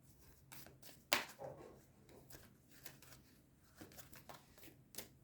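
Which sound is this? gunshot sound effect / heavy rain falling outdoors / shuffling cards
shuffling cards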